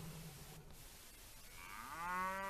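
A single bull bellow rises out of quiet background noise as a clue in an animal-sound puzzle in a detective mystery video game, a short, fairly faint moo near the end.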